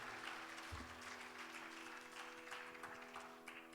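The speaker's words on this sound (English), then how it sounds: "A big round of applause to both Nekha and Piravin, please" Audience applause after a mridangam and violin arangetram recital, a faint, distant spread of clapping with a low thump near the start and a soft background hum.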